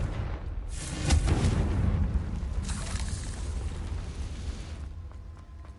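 A Confringo blasting spell erupts in Hogwarts Legacy as a loud, broad explosive boom that swells after a second, then rolls into a long rumbling tail fading over several seconds.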